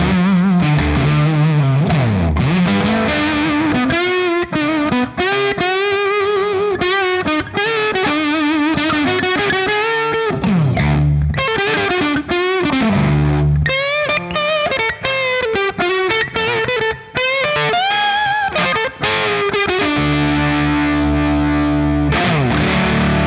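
Electric guitar played through an OCE Pedals Wrench fuzz pedal, thick saturated riffs and sustained chords ringing loud and continuous, ending on a held buzzing note.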